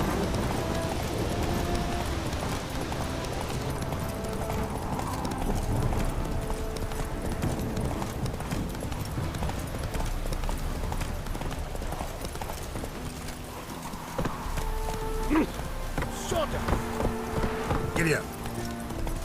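A horse trots in The Witcher 3, played in VR, with continuous rhythmic hoofbeats clip-clopping throughout, game ambience and occasional voices around them.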